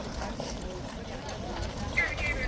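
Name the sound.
riderless police horse hooves clip-clopping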